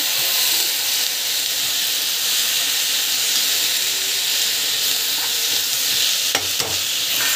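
Steady, loud sizzling and hissing from a hot pan as chutney is stirred, with faint scraping, continuous throughout and no voices.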